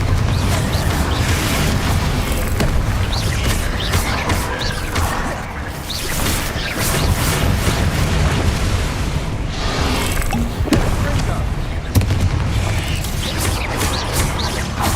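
Bombarda and Confringo explosion spells in Hogwarts Legacy, a dense, loud wall of booms, crashes and mechanical clatter that continues without pause, with occasional bigger blasts standing out.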